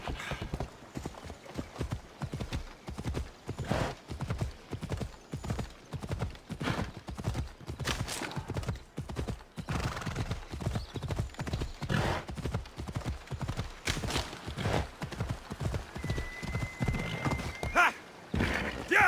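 A horse gallops at a steady rapid clip-clop in the Assassin's Creed Odyssey game, hoofbeats close and rhythmic throughout with an occasional whinny, no talk over it.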